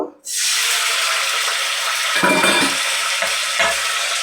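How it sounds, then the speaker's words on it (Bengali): Ginger paste and ground spices hitting hot oil, a sudden loud sizzle that stays strong and steady, with a few clinks and stirring scrapes near the end. "আমি তেলের মধ্যে সব দিয়ে দেব। আগে আদা বাটাটা দেব,"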